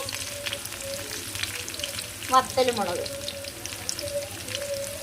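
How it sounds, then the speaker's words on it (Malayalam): Sliced shallots hit hot oil in a pan for Kerala-style parippu curry, giving a steady close sizzle with a brief louder crackling burst partway through and light stirring scrapes, no voices. "നമ്മൾ ചെറിയ ഉള്ളി വട്ടത്ത് അരിഞ്ഞത് അതും കൂടി ഇട്ട് കൊടുക്കാം."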